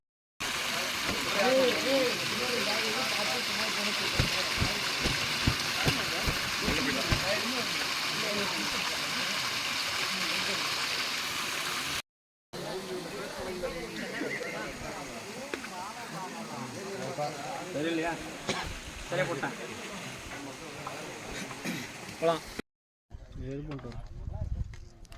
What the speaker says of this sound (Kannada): ಕಾಡಿಂದ ಬರ್ತದೆ ನೀರು.